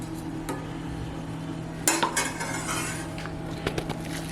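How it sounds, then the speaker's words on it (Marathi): A spoon stirs hot oil into an onion and potato bhaji batter, making soft scraping and clinking against the bowl with a sharper clatter partway through, alone without voices. "आणि थोडं असं मिक्स करून घ्यायचं, म्हणजे भजीमध्ये ना तेल राहत नाही."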